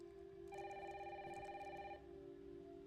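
A telephone rings with a repeated electronic trill inside a house during a rainy night in the video game Resident Evil Requiem, clear and steady for about a second and a half over a low background hum.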